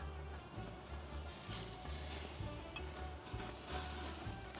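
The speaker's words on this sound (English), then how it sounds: "We're gonna put some saffron butter basting sauce" Saffron butter basting sauce brushed over grilled chicken koobideh skewers makes a soft, steady sizzle. A faint low rumble runs beneath it, with no voices.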